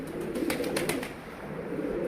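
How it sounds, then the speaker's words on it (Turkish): Pigeons coo softly over a low murmur, with a few quick fluttering wing flaps in the middle. "Kuşlar çatıdaki bütün kuşlar geldi, uçan kuşlar."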